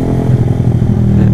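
Motorcycle engine revved hard on a residential street, a steady loud throaty drone with slight pulsing surges, close by and alone without talk.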